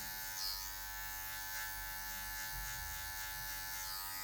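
Electric hair clippers buzz steadily and close while working the tip of the blade through afro hair to cut a mid fade, a continuous even hum with slight shifts as the blade moves.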